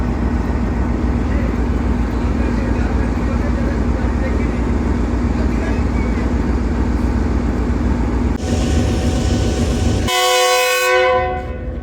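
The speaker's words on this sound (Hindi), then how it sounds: "104 डाउन सुबह खराम रेल कार ठीक राइट टाइम 4:30 पे डिपार्चर हो रहा है रावलपिंडी रेलवे स्टेशन के प्लेटफार्म नंबर 3 से" The 104 Down rail car pulls out of platform 3 at Rawalpindi railway station amid steady loud station rumble and crowd noise, then a sharp harmonic horn blast sounds near the end.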